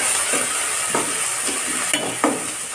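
Tomatoes being stirred into fried okra palya in a pan: a constant sizzle runs under four or five soft spatula scrapes spaced about half a second apart, close by with no talk.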